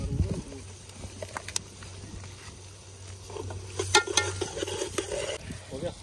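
Ginger and garlic fry in a pan at a riverside outdoor cooking spot, giving a faint, steady sizzle broken by scraping stirs and clinks against the pan.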